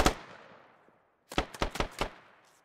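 Gunfire from the Squad video game: a single sharp shot with a long fading echo, then after a pause a quick burst of five or six cracking rounds down a street, moderately close with no talk.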